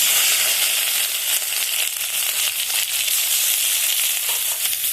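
Onion and spices fry in hot oil with a steady, loud crackling sizzle that continues without a break, heard up close with no talking.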